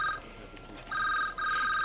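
A telephone rings with a steady electronic bell tone, sounding in two bursts separated by a short pause, fairly loud and close in an otherwise quiet room.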